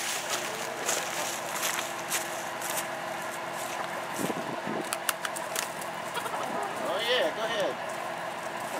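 Chickens, including Rhode Island Reds, cluck and squawk nearby at a chicken auction, with soft rustling and scattered movement around them.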